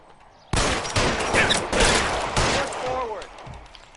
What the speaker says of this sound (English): реально на перестрелку поехал